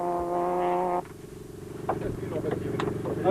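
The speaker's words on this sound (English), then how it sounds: "Serge can only battle on, driving the Toyota on the alloy rim" A Toyota rally car runs on a bare alloy rim after a front puncture, its engine droning steadily under a commentator's voice with scraping, clattering bursts from the damaged wheel.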